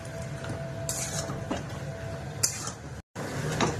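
A spoon scrapes and stirs ginger garlic paste with salt in a metal cooking pot, producing soft clinks and scraping strokes over a low background hum, with one brief gap near the end.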